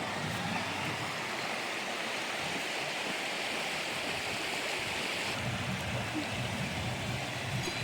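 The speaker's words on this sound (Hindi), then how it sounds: "इधर से नदी पड़ती है।" The Madhuganga river in Pauri Garhwal near Satpuli rushes in a steady, full, loud roar of flowing water that runs unbroken with no voices.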